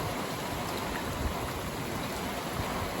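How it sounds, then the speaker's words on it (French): Driving rain lashes down amid strong wind gusts in a late-February gale, a thick continuous rush with slight swells in loudness and no voices. "Forte pluie, forte rafale de vent."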